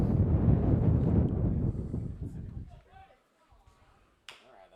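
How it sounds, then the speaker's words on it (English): Wind gusts hard against an outdoor microphone at a university baseball game, a heavy low rumbling buffet for a few seconds that then drops away to near quiet, followed by a brief faint tap. "The wind's definitely gusting."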